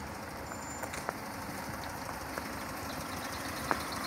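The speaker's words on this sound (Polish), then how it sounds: "O, jeszcze włączony silnik." A Tuman vehicle's engine left running at idle, a steady low rumble throughout with a few faint clicks and knocks over it and no talking.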